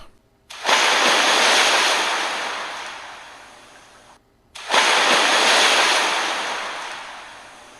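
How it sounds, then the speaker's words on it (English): Ocean waves crash against rocks in two loud, surging bursts, each swelling quickly and then fading into a long hiss of foam and spray, with a brief lull between them. "the waves were crashing into the rocks"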